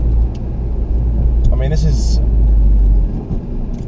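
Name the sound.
2015 Ford Fiesta ST 1.6 litre car driving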